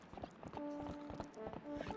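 Horse hooves clip-clopping in the video game Twilight Princess, a quick, steady trotting rhythm of soft hoof beats with faint tonal game sounds layered in, fairly quiet, with no speech.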